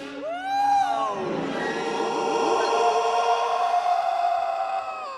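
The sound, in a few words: Krayt dragon creature call, newer version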